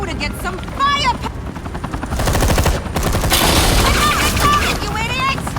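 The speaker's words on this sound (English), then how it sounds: "You cops can't just shoot people like that!" Police open fire in the Batman Telltale game: sharp bursts of gunfire crackle over a steady helicopter drone, with people shouting and talking around the shots.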